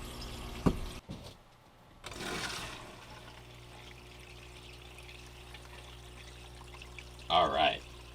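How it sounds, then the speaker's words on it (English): Water pours steadily through a gold sluice box loaded with red Arizona dirt, a continuous close rushing wash with a brief louder splash near the end. "we got the sluice rolling"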